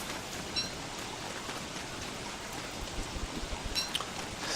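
Rain falls steadily in the video game Don't Starve as a dense, even hiss of drops, fairly faint and continuous, with no talking.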